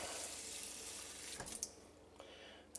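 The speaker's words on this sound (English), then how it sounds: "Put some cold water on it." Cold tap water runs and splashes over freshly churned butter in a bowl, a soft steady stream close by with a few small clinks and drips near the end.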